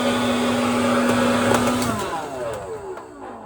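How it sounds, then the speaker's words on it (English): A hair dryer blows with a steady whirring hum, then switches off and spins down, leaving fading airy noise. "And this is a hair dryer."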